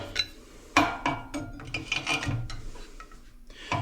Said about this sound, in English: Square file, I think that's gonna work the best.